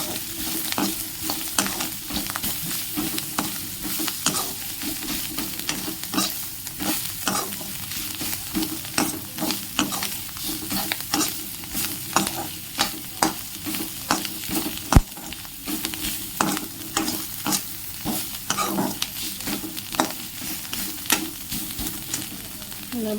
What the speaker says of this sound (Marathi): आता ही भाजी जी आहे ना ती आपण याच्यामध्ये मिक्स करणार आहे.